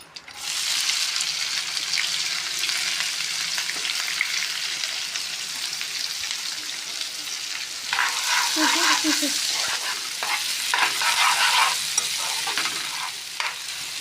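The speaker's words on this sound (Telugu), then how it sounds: "కరివేపాకు యాడ్ చేసిన తర్వాత సన్నగా కట్ కట్ చేసి పెట్టుకున్న ఉల్లిపాయలు కూడా యాడ్ చేస్తాను" Sliced onions and curry leaves fry in hot oil with a loud, steady sizzle. Partway through, stirring strokes and a brief burst of bubbling crackle rise over the hiss before it settles again.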